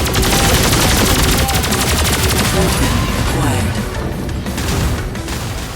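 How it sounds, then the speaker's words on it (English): Video game gunfire and explosions play as a dense, continuous barrage of rapid shots and crashing blasts. The sound stays loud throughout, with a few voice-like sounds mixed in. "Guns and explosions, however, sound varied and great throughout the game."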